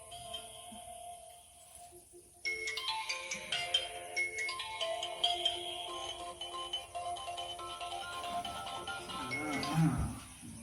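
An electronic phone ringtone plays for several seconds, a bright repeating melodic tone at steady moderate loudness with no voices.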